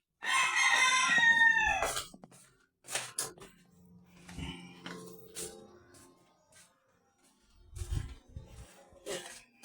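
A rooster crows loudly and close at the start, followed by scattered clucks and rustling in a quiet yard.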